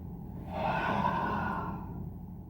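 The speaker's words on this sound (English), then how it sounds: "The breathing in and exhaling is very important." One strong, drawn-out breath, a forceful inhale or exhale lasting about two seconds, loud and close, taken during a jojutsu staff exercise.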